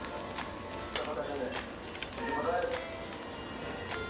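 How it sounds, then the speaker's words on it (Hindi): Egg-coated shami kababs frying in oil, a soft steady sizzle with light crackles and occasional utensil movement. "अंडे की कोटिंग करके आप इसको फ्राई कर लें"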